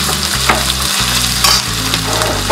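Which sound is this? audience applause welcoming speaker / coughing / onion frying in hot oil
onion frying in hot oil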